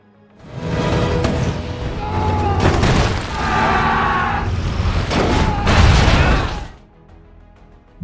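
Heavy war-film battle noise with Soviet tanks: repeated booming blasts and bursts of gunfire crash together for several seconds, loud and chaotic, then cut off abruptly.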